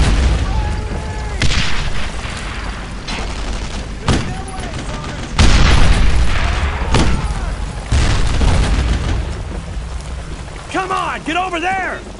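Gunfire and booming explosions from the video game Brothers in Arms: Road to Hill 30 crack and roll continuously, loud and dense, while soldiers shout over the battle.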